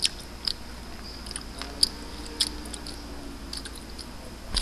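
Gum being chewed close to the mouth, soft moist squishing and clicking smacks recurring every second or so against a quiet background.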